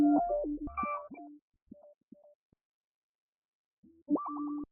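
A soft, swelling synthetic guitar tone plays briefly, fades into near silence with a few faint plucks, then returns with a warm, wavering sustained texture.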